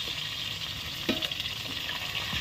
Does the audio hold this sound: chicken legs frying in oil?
yes